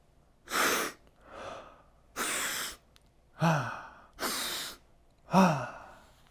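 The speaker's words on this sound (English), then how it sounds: "So let's give him a sniff." Six sharp, close breathy sniffs at a LEGO Star Wars Coruscant Guard minifigure, coming in a steady rhythm with short pauses between them and no talking.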